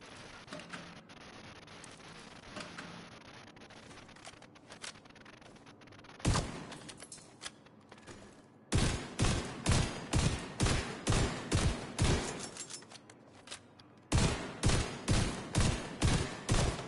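The Mop gun in The Division 2 fires a string of sharp, evenly spaced shots, loud and close, grouped in bursts with brief pauses. Quieter game noise fills the gaps, and no one speaks.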